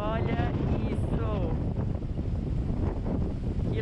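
Strong wind buffets the microphone in Cancún in a steady, loud rumble, with a faint hiss of rushing air and no voices.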